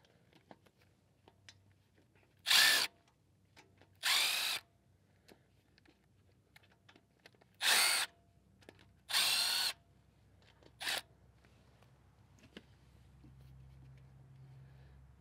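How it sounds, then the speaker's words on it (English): Working on a Subaru Sambar EN07 engine, a power tool loosens the bolts in five short, sharp whirring bursts. The bursts are spaced a second or two apart against a quiet workshop background, and the tool sounds close. "we'll finish loosening all the bolts and remove this as an assembly"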